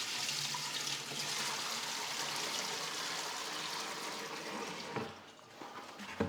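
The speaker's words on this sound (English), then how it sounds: "We're just gonna dump our water right in there." Water pours steadily into the fill tank of a Mytee HP60 carpet extractor, a continuous close splashing rush that tapers off near the end with a few small knocks.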